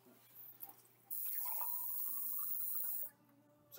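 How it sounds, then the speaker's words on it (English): Water runs steadily for about two seconds while a drinking glass is rinsed, a near, even hiss of flow from a tap bracketed by quieter handling noises before and after. "So maybe a quick rinse probably would be ideal."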